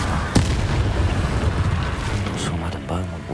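A Confringo blasting spell fires in Hogwarts Legacy on PS5: one sharp, loud burst early on, then a dense, rumbling game soundscape with a voice talking over it.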